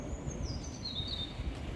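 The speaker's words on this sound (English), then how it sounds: "can you hear the robin singing?" A robin sings outdoors in a spring garden walk near Eton and Windsor, a thin, high, wavering phrase heard faintly at a distance over a soft low background hum.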